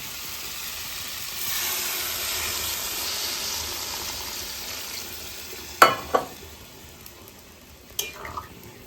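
Water poured onto sautéed spices and vegetable stems for a live tengra fish curry sets off a rising hiss and bubbling sizzle, followed by a few sharp clanks of a spoon against the pan.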